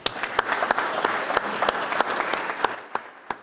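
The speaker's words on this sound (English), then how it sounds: "I just want to hear another round of applause for this organization" Applause from an audience at a business school executive mentor program event, a dense patter of clapping with sharper individual claps standing out, steady and moderately loud, thinning toward the end.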